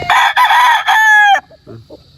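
A Golden Boy gamefowl rooster on a farm lets out one loud, close crow lasting about a second and a half, followed by faint scattered clucks and rustling.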